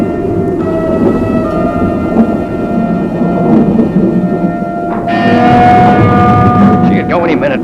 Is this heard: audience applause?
no